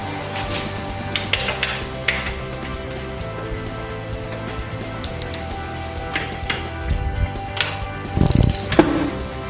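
Ratchet tightening the seat screws on a Royal Enfield motorcycle during a Harley-style seat install, giving scattered close mechanical clicks and metallic taps with a louder clatter near the end, no talk.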